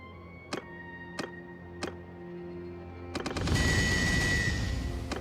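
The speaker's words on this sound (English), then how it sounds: "The Drake fire pistol." Drake fire pistol shots in the Warhammer Old Realms mod for Bannerlord: three sharp single cracks spaced evenly apart, then a quick cluster of shots followed by a rumbling, fiery roar that trails off.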